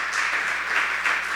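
A church congregation gives a loud round of applause, dense steady clapping that stays full and even for its brief length, with no voices over it.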